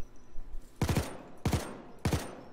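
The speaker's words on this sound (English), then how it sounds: "Don't know if I am the biggest fan of the assault rifle. Well, controlled bursts, decent accuracy." Assault rifle in Payday 2 firing three short controlled bursts of about three rapid shots each, sharp and loud up close, evenly spaced, with no talk over them.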